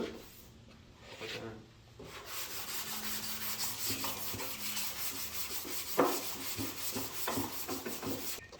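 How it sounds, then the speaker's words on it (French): Sandpaper of 180 grit sands primer on the hood of a Jetta Mk1 VR6, producing a steady, close rasping rub with rhythmic strokes that continues after a brief quieter start. "je vais venir sabler le primer jusqu'à temps qu'il soit parfaitement droit"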